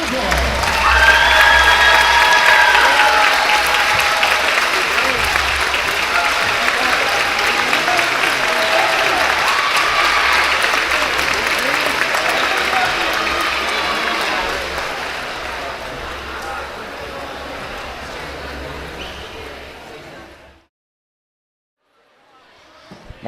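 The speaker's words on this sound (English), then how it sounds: "let's give these sons and daughters of Scotland one last round of applause" Crowd applause in a gym at halftime of a high school boys' basketball game, loud sustained clapping with some cheering that slowly tapers before cutting to silence near the end.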